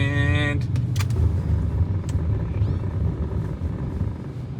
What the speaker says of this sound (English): we're gonna do a full emergency stop from 25 miles an hour